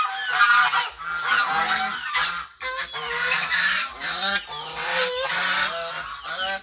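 A flock of geese honks loudly and continuously at feeding time on a rural farmyard, overlapping calls close by with no pause, no talk.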